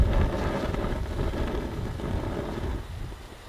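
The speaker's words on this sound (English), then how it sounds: "So that was a good gust of wind there" A strong outdoor gust of wind buffets the microphone beside a small butane camp stove, a loud low rumbling roar that holds for a few seconds and then eases off.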